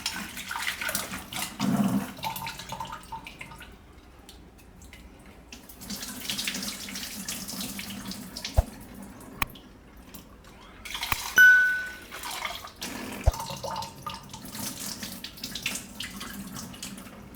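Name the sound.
washing lentils with running water in a sink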